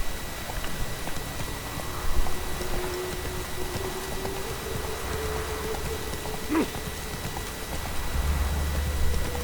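Horse hooves in The Witcher 3 give a soft, steady clip-clop of a trotting or galloping horse, moderately close over a rainy, rustling outdoor ambience with a faint low drone.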